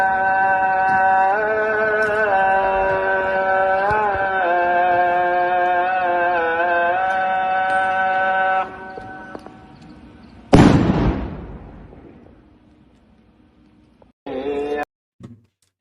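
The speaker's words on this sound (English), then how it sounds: "an Israeli soldier threw a stun grenade into a mosque as the call to prayer was taking place." Stun grenade thrown into a mosque during the call to prayer in the West Bank, a sustained melodic chanted call cut off by one sharp loud blast, followed by quiet and a brief burst of noise.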